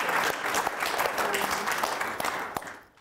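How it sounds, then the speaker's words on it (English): An audience gives a round of applause at an education presentation, a dense, steady wash of clapping hands that holds for about two and a half seconds before quickly fading out. "I'm going to get you all to give a round of applause just for that"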